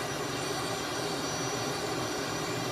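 Steady, loud broadband roar of a Tutor CT-114 training jet's engine in a VR flight simulator, a continuous whine and rush with no pauses and no talk.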